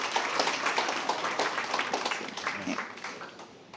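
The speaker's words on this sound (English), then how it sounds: "Let's give each other a round of applause" An audience applauds together at a youth entrepreneurship event, a dense, steady round of clapping that holds for several seconds and eases off slightly toward the end.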